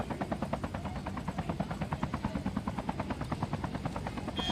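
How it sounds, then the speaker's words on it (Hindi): A helicopter sets down in Call of Duty gameplay, its rotor beating in a fast, even rhythmic thump that stays loud and close from start to finish, with no talk over it. "मैं अपना यहाँ चॉपर लैंड कराता हूँ"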